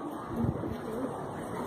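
Pigeons in a small loft, a soft low coo rising briefly over a steady ambient hiss, faint and close, with a murmur of background noise.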